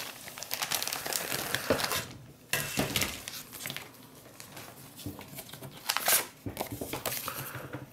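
Close crinkling and rustling of a thin plastic bag from a Tamiya 1:35 Challenger tank model kit, handled in irregular bursts with a few sharper crackles and short pauses.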